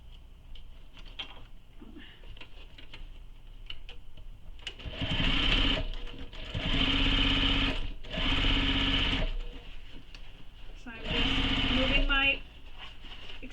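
Four bursts of a sewing machine stitching a tote bag, each a loud, close, rapid mechanical whir lasting a second or two, separated by quieter gaps where a person talks.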